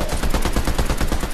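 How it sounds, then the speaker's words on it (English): Loud, continuous rapid gunfire in Fortnite, a fast unbroken rattle of shots up close with no talk over it. "Should we open fire to kill Obi-Wan?"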